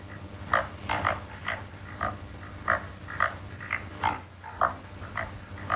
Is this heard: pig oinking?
yes